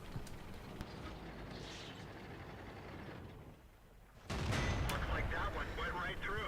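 Gunfire and heavy mechanical clatter from a World of Tanks battle against a KV-4, low rumble and scattered clanks, then a sharp, loud tank cannon shot about two-thirds through, followed by ringing mechanical noise.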